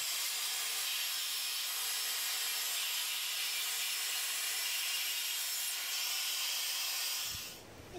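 A wood panel is ripped with a saw on a homemade rip jig, the cut running as a steady, loud, continuous hiss and grind for about seven seconds before stopping abruptly.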